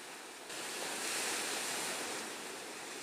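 Ocean waves on Muara Lasa beach in Padang, a shore piled with washed-up rubbish, with a broad steady wash of surf that swells to a louder surge midway and then eases, close and continuous, with no talking.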